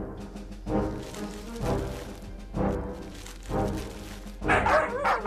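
A fierce guard dog in a Vietnamese fairy-tale cartoon barks in a steady rhythm, about five loud, close barks evenly spaced, ending in a busier burst of yipping.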